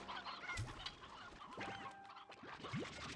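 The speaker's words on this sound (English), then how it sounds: "Rooster." Rooster clucks and short calls in the video game Slime Rancher 2, several brief chirpy bursts and swoops at moderate distance over a faint background hum, with no talking.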